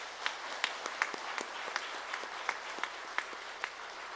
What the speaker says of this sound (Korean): 우리 네 분께 큰 격려의 박수 부탁드리겠습니다